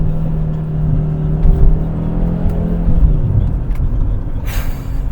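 A 500HP Audi RS3 engine running from inside the cabin, a loud droning rumble with a steady tone that drops away, followed by a brief hiss near the end, with no talking.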